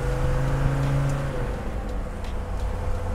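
A Puch 250GD engine drones while driving, holding a steady tone before easing off slightly. It is heard from inside the vehicle over road rumble.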